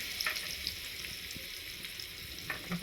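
Fish frying in oil on a small stove in a tiny kitchen, a steady soft sizzle with faint crackles and stirring scrapes, no voices.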